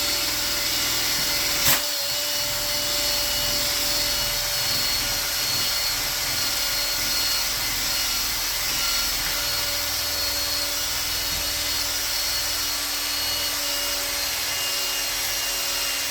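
Restoration of a Stanley Bailey #7 hand plane, its body lapped back and forth across a lapping plate: a steady, even rasping grind, close and continuous, with a single sharp knock near the start and no voices.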